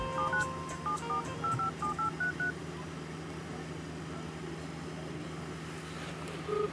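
A quick series of telephone keypad tones beeps in rapid succession over steady background hum, then a single tone near the end.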